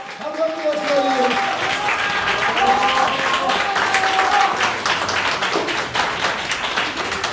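Applause from an audience at a Korean political rally welcoming a former provincial governor to the stage, steady and dense throughout, with voices and speech audible over the clapping.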